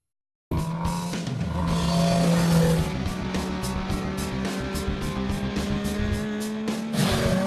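A 2012 Suzuki GSX-R750 sport bike being ridden, its engine holding a steady droning tone that shifts in pitch as it accelerates and changes gear, fairly close, with no talk.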